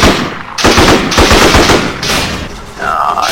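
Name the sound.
gunfire shooting at a turret in a video game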